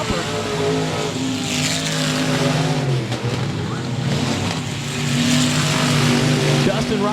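Race cars roaring around the oval of 67 Speedway of Texarkana, engines droning loud and steady as the pack comes out of turn four, with a commentator talking over the noise throughout.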